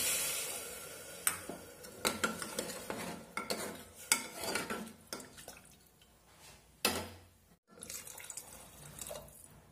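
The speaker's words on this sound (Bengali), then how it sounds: "এখন চাউলটাকেও টমেটোর সাথে একটু ভালো মতন কষিয়ে নেব" Rice and tomatoes being stirred and sautéed in a pressure cooker pan: close, irregular scraping and clinking strokes of a spoon against metal, with a brief pause near the end.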